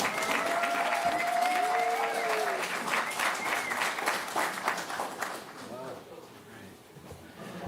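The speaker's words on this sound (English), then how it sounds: "Please join me in applauding Moses" Audience applause at a panel discussion celebrating Black achievement, a dense sustained wave of clapping from a large crowd, loud at first and gradually thinning and fading toward the end.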